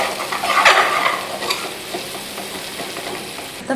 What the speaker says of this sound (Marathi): 2 मिनिट छान परतून घेऊया